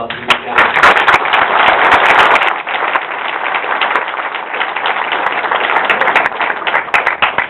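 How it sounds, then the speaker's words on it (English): Audience applause at a comic convention panel, dense steady clapping that stays loud through the clip and tapers slightly before voices come in underneath. "I think a round of applause for these guys"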